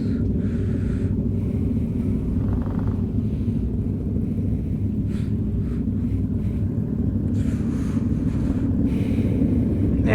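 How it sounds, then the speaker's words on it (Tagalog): A motorcycle engine rumbles steadily during a group ride up Mount Samat, a continuous low drone mixed with wind buffeting on the microphone and no clear talk. "ingay ng motor ni Pres"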